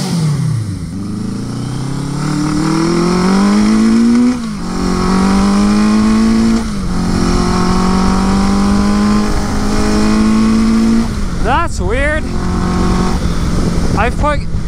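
A Suzuki GS850 scrambler motorcycle engine runs loud and close throughout a ride, rising repeatedly in pitch through gears with brief dips between shifts, over steady wind rush.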